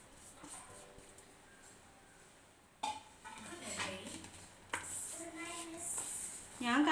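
Coconut and sugar being mixed by hand in a bowl, giving soft clinks and scrapes of dishware that come and go with louder bursts partway through and near the end.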